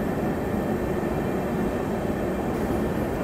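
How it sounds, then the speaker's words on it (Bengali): A train runs through a brand-new, spacious tunnel just past Bhairabi station, giving off a steady, dense rumble and roar that stays loud and even throughout with no break. "টানেলের ভেতরে কিন্তু ট্রেন ঢুকে গেল ভৈরবী স্টেশন থেকে"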